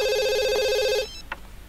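A telephone rings in The Sims 2, a clear electronic ring lasting about a second and then cut off, followed by a few soft game clicks with no talking.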